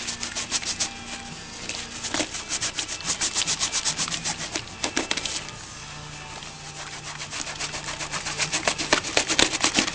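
Cleaning liquid is rubbed into textile outdoor boots with steady back-and-forth scrubbing strokes, a continuous rasping friction that pulses rhythmically throughout, close and moderately loud with no talk.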